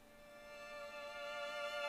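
Violins from the 8Dio Adagio strings library holding a soft sustained bowed note that slowly grows louder, quiet and alone.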